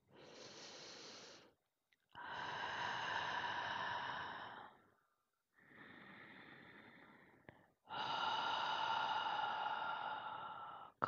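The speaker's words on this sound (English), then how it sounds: "So let's take a deep breath." Four slow, deep breaths, each a long airy rush of inhaling or exhaling separated by short silences, close and fairly soft.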